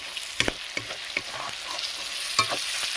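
Panch phoron spices sizzle in hot oil while being stirred, a close frying hiss with several sharp pops and spatula clicks, and nobody speaks.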